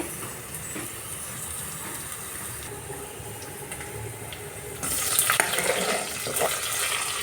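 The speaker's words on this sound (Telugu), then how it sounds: "సన్నగా తరుక్కున్న ఉల్లిపాయలు, పచ్చిమిర్చి, కరివేపాకు కాసేపు వేగనివ్వాలి" Onions, green chillies and curry leaves frying for masala pongal make a steady sizzle that grows louder and brighter about two-thirds through, with faint stirring clatter and no voices.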